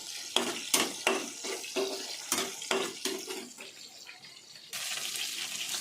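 Onions frying in oil after a pinch of salt goes in, for a home-style chicken fry: utensil scrapes and clinks punctuate a steady close sizzle that swells louder near the end, with no talking.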